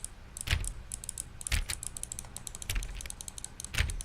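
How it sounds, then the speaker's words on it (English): Repeated computer mouse clicks during The Stanley Parable, crisp close clicks in quick irregular runs with a few louder taps, over faint steady background noise. "I'm just clicking my mouse like a bitch right now."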